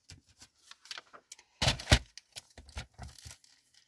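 Sheets of vellum paper being cut by hand: scattered crisp, papery rustles and snips, with one louder crackling burst partway through before softer crinkles resume.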